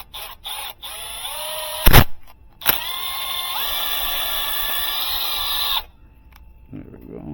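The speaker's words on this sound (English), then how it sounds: "drill a little hole in here first." A power drill boring a small hole while fitting a TRADEPRO TP-5/TP-6 hard start kit, heard as a steady high motor whine for a few seconds that rises in pitch partway, with brief clicks and bumps before it.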